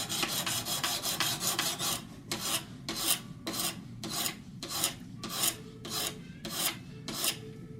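Knife edge stroked on a Wicked Edge sharpener, rapid rasping strokes at first, then slower evenly spaced scrapes, about a dozen in a steady rhythm, close and alone with no talking.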